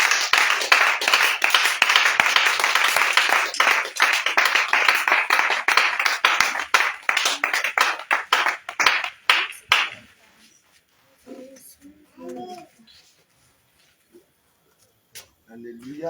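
A church prayer-cell congregation claps loudly and steadily for about ten seconds as an offering of acclamation, then the clapping stops and a few voices are heard in a quieter room.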